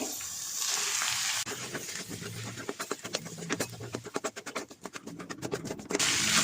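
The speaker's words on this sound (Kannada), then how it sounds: "ನೀರು ನೆನೆಸಿ ಸೋಸಿರುವಂಥ ಅವಲಕ್ಕಿ ಹಾಕ್ತಾ ಇದ್ದೀನಿ" Soaked flattened rice (poha) stir-fried in a pan of tempered oil, with a constant sizzle and a fast, rhythmic run of scraping and rubbing strokes of a spoon against the pan, close and fairly loud.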